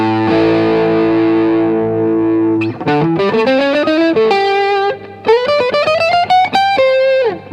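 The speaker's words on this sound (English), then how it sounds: "So now let's put some crunch. It's my Tube Screamer clone pedal" An electric guitar through a Tube Screamer clone overdrive pedal, neck pickup in series, rings out a sustained chord, then plays a run of crunchy, gritty notes and chords, loud and close.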